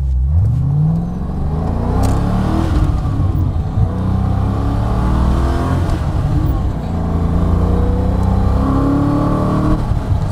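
A Hyundai Stellar fitted with a Rover V8 engine accelerates hard, its loud, rising engine note sweeping upward through several gear changes and staying continuous and close throughout.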